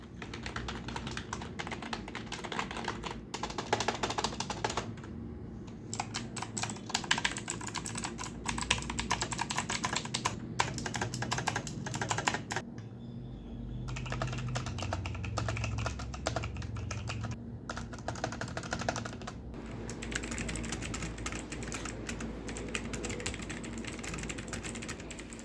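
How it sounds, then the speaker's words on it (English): Fast typing on a light, cheap gaming computer keyboard, a dense stream of crisp clicky keystrokes with brief pauses, close up and steady for the whole stretch, with no talking. "let me just give you a few more keyboard sound reference so you can decide whether this one is worth it or not"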